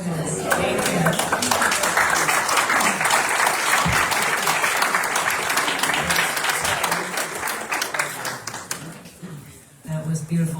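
A church congregation at a Sunday celebration service claps in sustained, loud, dense applause that swells and then tapers off before a brief pause, with voices audible over the clapping.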